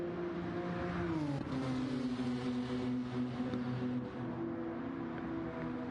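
Racing cars engines drone steadily on the track in an arcade racing video game, a close sustained engine tone that shifts pitch as gears and revs change, with no talking.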